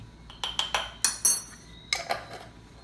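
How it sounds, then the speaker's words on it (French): A spoon stirs a teaspoon of moringa powder into a drink, striking the cup in about eight bright, ringing clinks at an uneven pace with short pauses, close and clear against a quiet background. "Je vais touiller de façon à bien mélanger avec la boisson."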